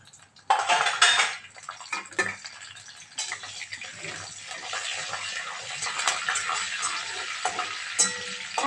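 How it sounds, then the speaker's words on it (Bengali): Curry leaves, mustard seeds, hing, dry chillies and ajwain drop into hot oil with a sudden loud burst of spluttering and crackling, then settle into a dense, continuous sizzle with metal utensil clinks. "এখানে দেখো আছে কারি পাতা, সর্ষে, হিং, শুকনো লঙ্কা আর জোয়ান। এইটা ফোড়নে দিয়ে দিলাম।"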